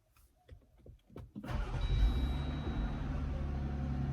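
A Jeep Gladiator fitted with a Bestop soft top cold-starts after a few soft clicks, the engine catching with a surge and settling into a steady, close rumbling idle.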